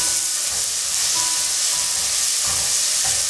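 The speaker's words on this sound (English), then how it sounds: "And now we'll add the garlic and the green seasoning." About two tablespoons of green seasoning and a tablespoon of minced garlic frying in a pan over high heat, a loud, steady close-up sizzle with faint stirring scrapes throughout.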